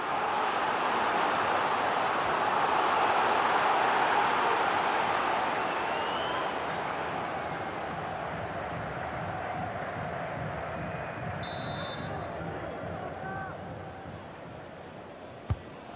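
Stadium crowd in FIFA 23 during an Austrian Bundesliga match between SC Austria and RB Salzburg, a loud sustained roar of cheering that slowly eases, with faint whistles and chants.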